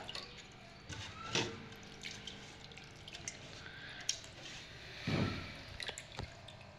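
Flattened rice being rinsed by hand in water, with soft drips, trickles and a couple of louder sloshing splashes close by, no voices.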